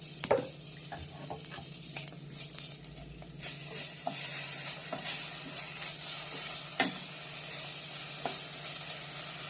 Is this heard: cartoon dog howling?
no